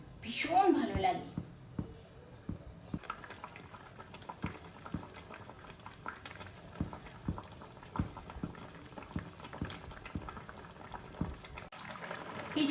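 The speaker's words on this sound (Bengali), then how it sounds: "কিছুক্ষণ ডিমটা সিদ্ধ হতে দিয়েছি টকে।" Fish roe simmers in a sour tok curry, giving a steady gentle bubbling with small pops and soft liquid ticks while someone talks over the cooking.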